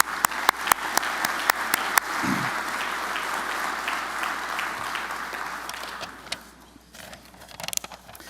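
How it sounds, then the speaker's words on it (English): Conference audience applauding sponsors at an energy summit, a room-wide wash of clapping with a few sharp individual claps up front that fades out over about six seconds, followed by scattered lone claps. "a round of applause for our sponsors"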